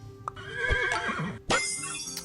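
Horse neigh from the video game Super Auto Pets, a bright whinny that rises and wavers, then a sharp synthetic chime-like hit in the game's sound effects.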